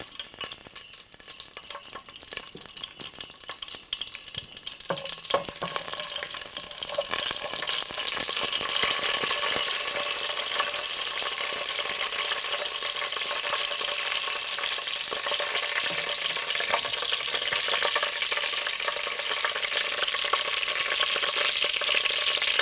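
Tempering spices, curry leaves and chillies frying in hot sesame oil give a continuous crackling sizzle that swells after a few seconds, with occasional stirring clicks, close and steady throughout.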